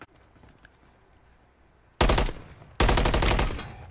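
Gunfire in the video game Call of Duty Warzone: two loud, close bursts of rapid automatic fire, the second longer, breaking in suddenly over quiet background noise.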